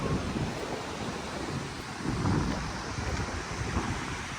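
Wind and waves wash along a beach, a steady broadband rush with gusty swells and low rumbling buffeting close to the microphone.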